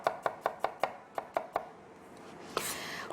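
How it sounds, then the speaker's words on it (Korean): Green onion and garlic chopped with a kitchen knife on a cutting board during Korean cooking exam practice: about eight quick, evenly spaced, crisp knife taps, then a brief pause and a soft scraping sweep across the board. "저는 파 마늘부터 다지고 들어갈게요."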